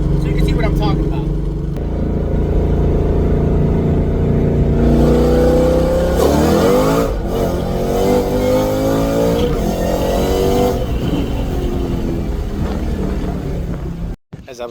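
A car with race parts driven on the street accelerates hard, its engine drone climbing in pitch, dropping briefly at a 2-3 gear shift, then rising again loud and steady before cutting off abruptly at the end.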